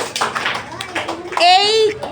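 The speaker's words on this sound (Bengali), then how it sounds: "হাততালি স্বামীর জন্য, হাততালি" Fourth-grade pupils give brief, scattered applause in a primary school classroom, with a voice speaking over the clapping.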